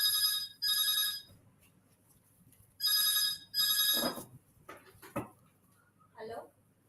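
A telephone rings in loud repeated bursts of bright electronic tones, two rings, a pause, then two more, followed by a few clattering handling knocks and short thumps as the handset is picked up.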